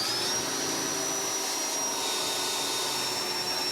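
A continuous electric whine and whirring motor hum, steady and fairly loud with a thin high tone running through it, like a pump running nonstop.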